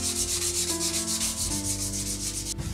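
Hand sanding across the routed relief carving of a wooden frame, a steady rhythmic rubbing of abrasive strokes, close and continuous, with no voices.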